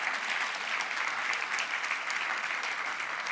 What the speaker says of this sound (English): So please, another warm round of applause for coming here to share the stage.